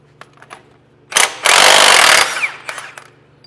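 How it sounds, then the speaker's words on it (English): Impact wrench removing the differential flange lock nut on a Humvee geared hub, a loud sustained rattling burst of about a second after a brief short hit, close up in a workshop with no talk. "I'm going to impact this off."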